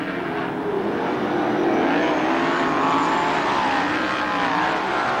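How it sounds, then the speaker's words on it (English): Sprint cars race around a dirt track during a 1991 CRA sprint car heat, a loud sustained engine roar with shifting, sweeping pitch as the cars pass close by. "The 75 hold off down in turn number 2 as Bob Robel stretching out his lead"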